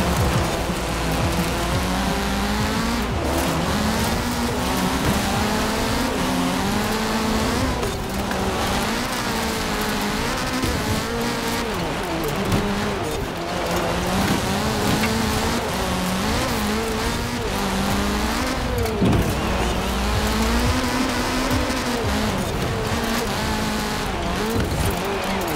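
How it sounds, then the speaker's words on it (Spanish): Honda Civic Coupé engine in Forza Horizon 4 on Xbox Series X, a continuous loud revving drone with shifting pitch and tire noise running throughout. "Madre mía, cómo suena. El motor, ese motor Honda."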